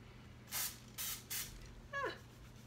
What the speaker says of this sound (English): Shake up the can, lightly spray it.